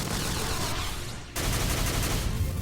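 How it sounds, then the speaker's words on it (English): Rapid explosive bursts of a missile barrage in the Xenosaga III video game, a dense, loud roar of blasts with a brief dip before the barrage resumes. "Let's try the missiles."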